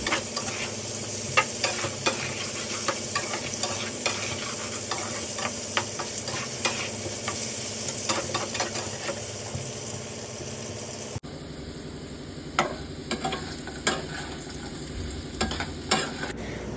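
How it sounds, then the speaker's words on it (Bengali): Potatoes fry in hot oil with a little salt and turmeric, giving a continuous close sizzle punctuated by frequent clinks and scrapes of a stirring spoon against the pan, with a faint steady hum beneath and no speech. "যদি হাতে টাইম থাকে তাহলে আলুগুলিকে একটু আলাদা করে ভেজে দেওয়ার, সেটাই করছি"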